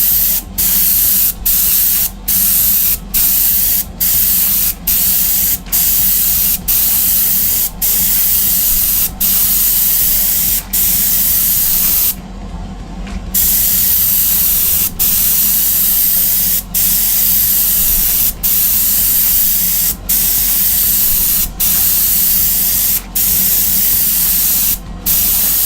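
An airbrush sprays base coat onto Greek-style vases with a loud, steady close-up hiss that runs for the whole stretch. Sharp regular clicks tick through it, and the spray breaks off briefly near the middle.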